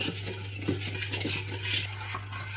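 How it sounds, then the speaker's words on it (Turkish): A utensil stirs sugar and water together in a pot for lokma syrup, producing steady close scraping and clinking against the metal without any voices. "2 su bardağı su ilave ediyoruz. karıştırıp ocağa koyuyoruz."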